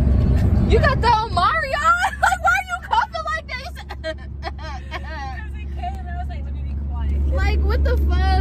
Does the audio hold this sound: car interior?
yes